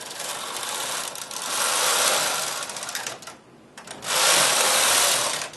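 A knitting machine carriage is pushed across the needle bed to knit rows, giving a loud whirring, clicking mechanical rush in two passes separated by a brief pause, with no talk.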